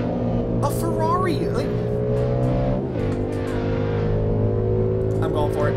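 A Ferrari races in a street-racing driving video game, its steady engine drone holding level with tire noise while someone talks over it throughout.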